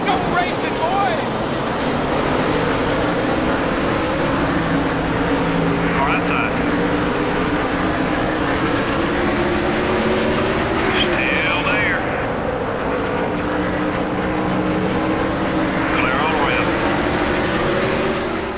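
Stock cars race at Bristol in NASCAR Thunder 2003, a dense pack of engines droning loudly and continuously with rising and falling pitch as they circle, while a commentator talks over the roar.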